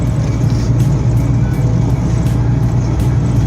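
A Tavria car engine with a fluctuating idle drones loudly and close, its low rumble pulsing unevenly as the throttle is blipped in short repeated bursts.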